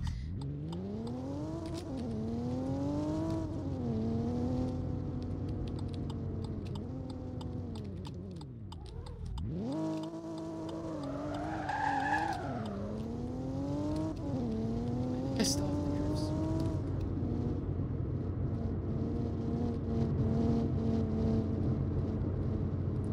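A BMW M3 engine in a video game idles and then revs up and down. Its droning tone rises and falls in several sweeps at close range, and a tire screech comes near the middle.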